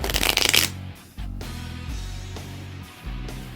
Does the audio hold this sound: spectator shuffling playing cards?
yes